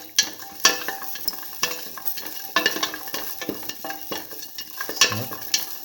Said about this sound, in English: Now put in the shallots